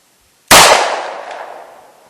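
One sharp, loud gunshot from a Colt Compact 1911 firing a .45 ACP Sierra 185 grain jacketed hollow point, with a fast crack followed by a decaying echo.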